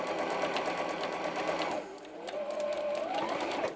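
A sewing machine stitches a quarter-inch quilt block seam from the raw edge with a back stitch, a fast steady whirring close by that briefly slows before running on.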